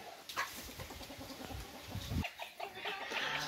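A hen of a fighting breed laying in a nest clucks softly at close range, with low murmuring clucks and a few brief sharper calls over faint outdoor background noise.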